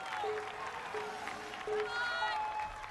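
Family members on the sideline of an American Ninja Warrior course cheer and clap for a competitor, a faint crowd of whoops and applause under brief high shouted voices.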